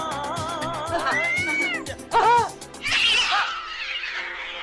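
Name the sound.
cats meowing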